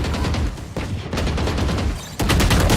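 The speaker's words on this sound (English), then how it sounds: "Placing swarm grenade." A swarm grenade detonates in a shooting video game, a dense rapid burst of crackling blasts that stays loud and continuous, intensifying toward the end.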